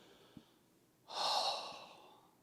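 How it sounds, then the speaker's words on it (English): A single slow, deliberate breath comes in a long, soft airy exhale that swells and gradually fades, preceded by a faint click. "I'm consciously slowing my breathing way down"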